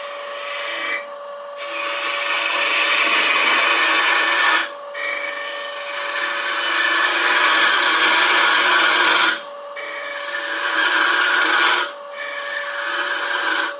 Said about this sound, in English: I should probably go back in with the gouge to get rid of that.